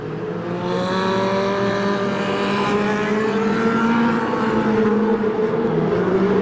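Stock cars at a 1996 Veterans Day Classic qualifier in Porterville, California, a loud sustained roar of several engines droning together at steady pitch, rising slightly as the pack circles the track, with no voices over it.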